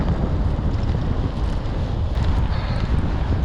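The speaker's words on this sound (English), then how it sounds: "Wind's hitting us in the face." Steady, loud wind buffets the microphone while cycling a paved trail outdoors, a continuous low rumble with no pauses and no voices.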